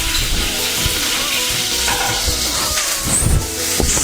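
Ghee heats in a hot pan with a loud, continuous close-up sizzle and hiss that carries on without a break.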